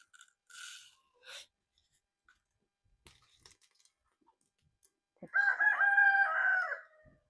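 After a few soft scattered noises, a rooster crows once from a moderate distance, a clear drawn-out call of about one and a half seconds.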